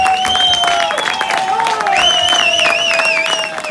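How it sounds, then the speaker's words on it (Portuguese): Live audience claps steadily throughout, with whistles and cheering voices rising over the dense clapping. "Uma grande salva de palmas para vocês"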